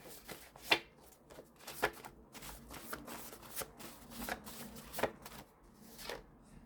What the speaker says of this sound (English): it's a little more difficult for me to shuffle